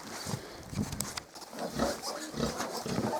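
Young piglets on a small pig farm squeal for food in short, repeated bursts close by, while a person talks softly among them.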